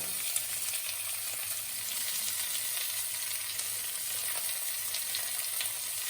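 Food sizzles steadily in a hot frying pan while being stirred, a continuous close crackle with faint scraping and no talk, during home cooking as pepper is added.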